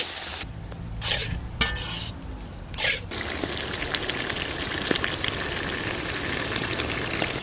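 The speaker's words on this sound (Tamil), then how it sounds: "இது கூடவே கருவேப்பிலை சேர்த்து நல்லா கிண்டி விட்டுக்கலாம்." A huge village batch of mussel fry is stirred with coriander and curry leaves. Intermittent scraping bursts over the first few seconds give way to a dense, continuous sizzle and crackle.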